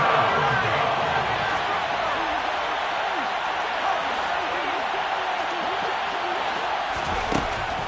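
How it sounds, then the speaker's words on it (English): A football stadium crowd roars steadily during an NFL game as the home Tampa Bay fans build noise ahead of a big third down, a dense, continuous wall of cheering under an announcer's voice. "The crowd getting into it as we come up on a big 3rd down."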